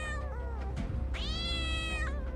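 A cat meows as a sound effect in a Bengali ghost story about a black cat, two drawn-out, clear meows close by over a low hum, with no talking.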